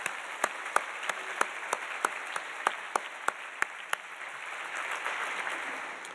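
Applause from an audience at a university State of the School address, steady and moderately distant, with a few sharp isolated claps standing out at regular intervals and the sound swelling slightly toward the end.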